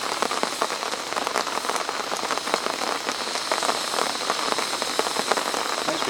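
Rain pattering steadily on a woodland canopy and a stretched tarp, a dense, even hiss of drops with small close splats scattered throughout and no voices.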